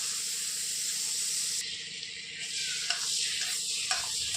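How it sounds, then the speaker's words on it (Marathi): Butter sizzling in a hot kadhai as tempering starts, a steady close hiss of frying fat with a few soft pops and stirring scrapes toward the end. "आता आपण फोडणी टाकत आहोत कडे गरम झाली आता आपण तेलाऐवजी बटरमध्ये करणार आहोत"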